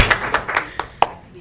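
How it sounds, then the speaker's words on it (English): A handful of separate hand claps ring out in a school board work session room, about six sharp, unevenly spaced claps from one or two people, close and clear against a quiet background. "we need to give you your applause"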